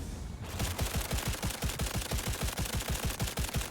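Rapid automatic fire from an unupgraded rifle in Cyberpunk 2077, a steady fast stream of loud, evenly spaced shots that starts after a brief moment and carries on unbroken with no talking.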